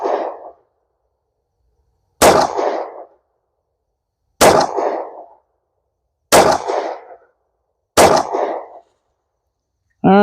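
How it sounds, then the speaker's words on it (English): An FN Reflex 9mm pistol fires four sharp, loud shots at evenly spaced intervals of about two seconds, each followed by a short ringing decay, with another report starting at the very end. "Let's take a couple more shots here just to make sure everything's good"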